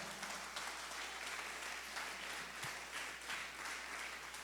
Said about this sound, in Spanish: Denle un aplauso a nuestro Dios, porque Él es bueno.